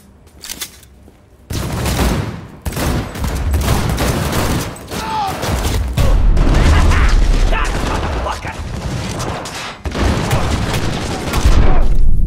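Heavy gunfire and a grenade blast in the Cyberpunk 2077 video game, with loud dense bursts of shots and booming impacts filling most of the stretch after a quiet start, with voices talking amid the chaos.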